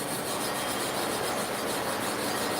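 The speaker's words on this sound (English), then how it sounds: "you have to recharge the plate to sharpen clipper blades about every 6 to 8 blades" Steady close rasping of a clipper blade being rubbed across an oiled 180 grit aluminum oxide abrasive plate, continuous and even throughout with no talk.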